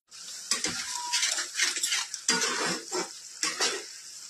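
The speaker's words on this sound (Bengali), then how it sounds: "আমি আস্তে আস্তে নাড়তেই থাকবো, জলটা শুকাবো।" Prawns are stirred with bottle gourd leaves in a pan: a spatula scrapes and clatters in repeated strokes at an unhurried pace, close and clear, over a soft sizzle with no talking.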